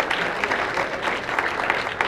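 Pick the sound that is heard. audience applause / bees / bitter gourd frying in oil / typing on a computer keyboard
audience applause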